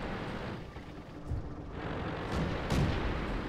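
Tank cannon fire in the World of Tanks PC game, a deep, rumbling low-end blast, with heavier booming swells near the end over a continuous dense battle background, no talk.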